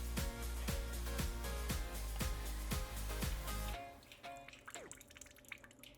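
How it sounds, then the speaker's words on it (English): Water dripping and trickling as cooked pumpkin is drained in a home kitchen, a steady series of close drips and splashes that thins out to sparse, quieter drops near the end. "I think I'm going to drain a little more water off of it."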